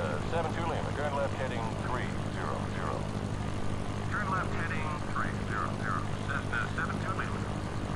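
A Cessna piston engine in the Sierra Pro Pilot flight simulator game, a steady droning propeller hum that runs throughout, with bursts of radio-style chatter and voices layered over it.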